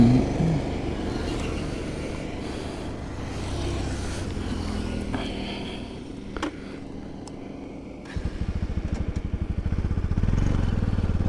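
A Bajaj Pulsar NS 200 motorcycle engine runs steadily at first, then settles into a rapid, throbbing idle pulse in the second half, loud and close, with no talking.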